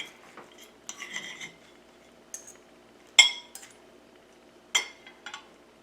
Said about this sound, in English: Let me wipe off my fork and my knife.